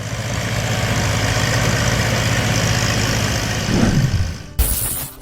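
A Ford 5000 tractor engine idles with a steady low rumble, swelling briefly before a sudden cut, loud and close throughout.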